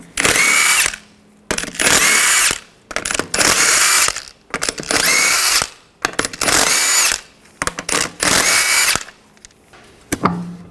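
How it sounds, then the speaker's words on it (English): An impact tool with a 22mm socket removing lug nuts from a 2015-2020 Cadillac Escalade wheel, loud close bursts of rattling buzz, several runs each lasting about a second with short gaps between them. "Using a 22mm socket, take the lug nuts off."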